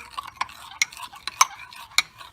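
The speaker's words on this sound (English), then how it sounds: "So you're basically just going to whisk it together." Whisking milk into mug cake batter inside a mug, heard as a few sharp, separate clinks and scrapes of a utensil against the mug's sides, close and fairly quiet, with no talking.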